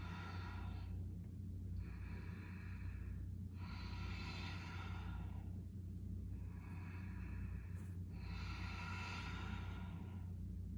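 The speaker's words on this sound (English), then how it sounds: "And exhale." A person slowly breathes in and out through a yoga flow, with soft, airy exhales repeating in an even rhythm, quiet and close.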